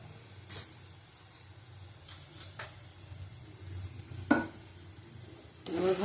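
Tomato with Kashmiri chili powder is stir-fried in a pan for egg chicken tadka, a continuous soft sizzle broken by a few sharp scraping strokes of a spatula.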